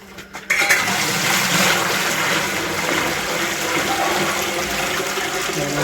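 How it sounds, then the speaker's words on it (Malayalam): Water gushes steadily into a large copper cooking pot set up for chicken biryani rice, a loud continuous pour heard close up and alone after a brief start. "ചോറ് വയ്ക്കാൻ അരിക്കുള്ള ചെമ്പെടുത്ത് വെച്ചിട്ടുണ്ട് വെള്ളം കൊണ്ടൊന്നൊഴുകി"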